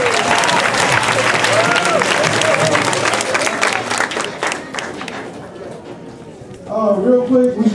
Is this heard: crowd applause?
yes